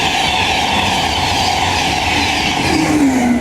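An LNER Class 91 electric train passes through Retford station on the East Coast Main Line, a loud, steady roar with a high electric whine rising near the end.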